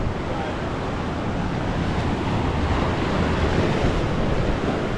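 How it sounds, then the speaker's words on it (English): Steady, loud surf along a beach at Saint-Tropez, France, waves crashing and washing ashore as a continuous roar mixed with wind buffeting the microphone. "There was a couple big waves that already came."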